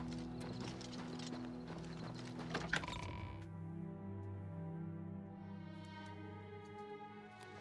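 Horse hooves clip-clopping in the video game Oblivion Remastered, a quick run of close footfalls that settles into a quieter background with a low sustained musical tone.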